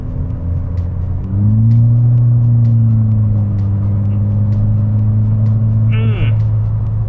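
An MK6 GTI with a Stage 1 ECU tune accelerates in sixth gear, its engine drone rising and holding as a steady low rumble from inside the cabin, with a voice talking over it.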